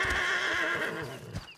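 A horse gives a loud, close neigh that trails off, followed by a couple of hoof thuds at the end.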